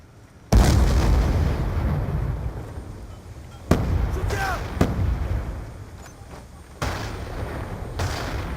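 Gunfire in the video game Call of Duty Black Ops 2, several loud, sharp shots and blasts spaced apart, including a heavy opening burst, with a voice talking now and then.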